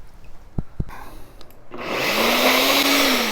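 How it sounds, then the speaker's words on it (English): A blender whirs loudly, blending birria sauce with added broth. A few sharp clicks come first, then the motor spins up and holds a steady roaring hum. "I'll get this blended up off camera"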